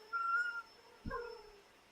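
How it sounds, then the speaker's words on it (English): A cat meows twice, a tonal call followed by a second cry with a brief low thump at its onset, close and fairly quiet over a faint steady hum. "Well, technically, she's a cat."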